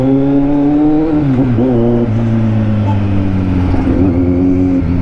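A Kawasaki Z900 SE motorcycle engine idles after an idle speed adjustment, a low steady rumble with slight pitch wobbles, close and loud throughout.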